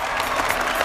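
Brief applause from a studio audience on a Kannada celebrity talk show, a short burst of steady clapping.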